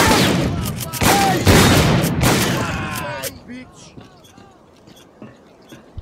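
Gunfire in the video game S.T.A.L.K.E.R.: Clear Sky: several loud, sharp shots and rapid bursts ring out with echoing tails in a building, then fade to quieter scattered reports and ambient noise.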